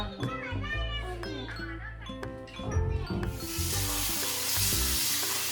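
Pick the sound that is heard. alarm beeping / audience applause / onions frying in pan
onions frying in pan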